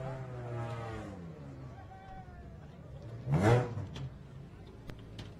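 A Class 10 off-road race car approaches a ramp at the SCORE San Felipe 250 in Mexico, its engine a rising, revving drone with a louder surge midway, under an announcer's talk and crowd noise.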